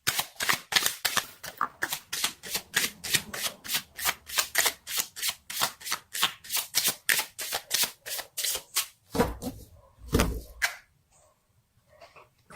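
Tarot cards shuffled close up in a fast, rhythmic run of crisp riffling flicks, then a brief pause and a couple of final slaps before quiet, with no talk.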